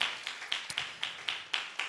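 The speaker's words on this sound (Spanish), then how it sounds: "Denle un fuerte aplauso al Señor" A church congregation claps in unison, about eight evenly spaced sharp claps in a steady rhythm, crisp and fairly close with no talking.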